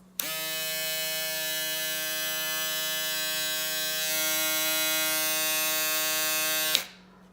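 A cordless Andis Profoil Lithium Plus electric foil shaver runs at close range with a steady, strong buzzing whine for about seven seconds, then clicks off.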